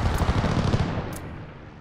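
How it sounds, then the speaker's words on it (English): Hostile aircraft strafing with gunfire in a video game, a rapid dense rattle of shots that fades away over about two seconds, loud and close, with no talk. "Hostiles are strafing us!"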